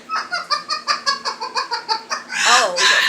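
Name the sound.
pet bird vocalizing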